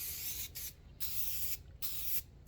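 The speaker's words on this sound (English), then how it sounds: "you have to spray it 9 million times in order to get any type of consistency on MDF" Krylon spray paint hisses onto MDF in three short bursts with brief gaps, a close, steady aerosol rush with nothing else audible.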